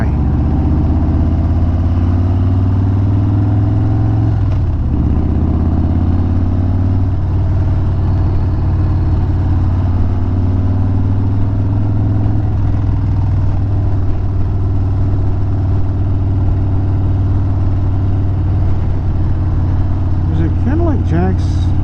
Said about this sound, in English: Why is it idling so high?